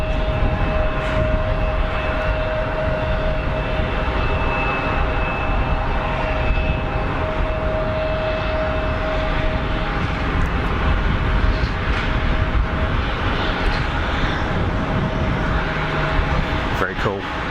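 SAS regional airliner taxiing at Geneva Airport, a steady droning engine hum with a tonal whine close by, continuous throughout, while a person talks over it.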